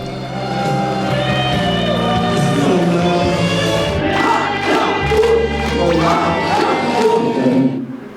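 Concert audience cheering and applauding at a Korean music show, a loud, dense crowd roar mixed with shouting voices and clapping, sustained for several seconds before cutting off.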